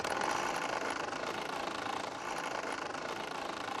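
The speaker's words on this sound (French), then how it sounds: "Il y a la vapeur qui monte dans le moteur à vapeur." A miniature model steam engine, fed by a water-filled boiler underneath, runs with a steady, faint mechanical chuffing and rattling hum that holds even throughout, with no talk over it.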